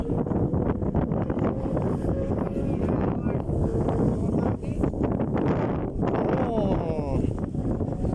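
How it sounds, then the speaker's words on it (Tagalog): Strong wind batters the microphone outdoors beside a flooded pond, a constant loud rumble with gusty swells, while people talk over it throughout. "Ang lakas ng hangin."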